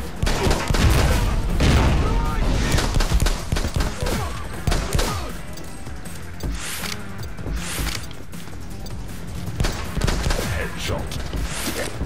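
Sustained gunfire from the shooter video game The Club, dense bursts of rapid automatic shots and booming impacts layered throughout, loud and close, with a voice talking over parts of it.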